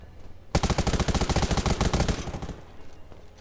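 Gunfire in the video game Undawn: after a brief quiet moment, a loud rapid burst of automatic fire rattles for about two seconds and then tapers off into softer echoing shots.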